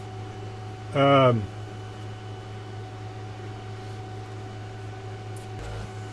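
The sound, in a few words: spray booth running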